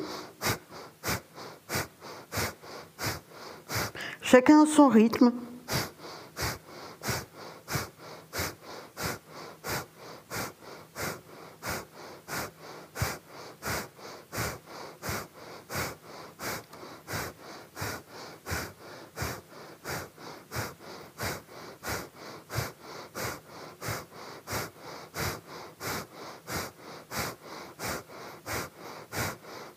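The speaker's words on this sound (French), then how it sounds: "on va faire un peu de Kapalabhati" Kapalabhati yoga breathing is performed as a long, steady series of sharp, forceful nasal exhalations at an even rhythm, each a short whooshing puff, close and fairly quiet. One person speaks briefly early on.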